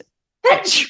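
A single sharp sneeze bursts out close by after a moment of silence, breathy and loud with a quick intake then explosive release.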